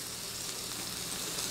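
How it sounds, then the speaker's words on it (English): Onions and rice sizzling in a skillet for a cheesy beef and rice one-pan dish, a steady hissing crackle of frying that stays even and fairly soft throughout, with no voices. "I just love the way the onions smell when they're sizzling in a skillet"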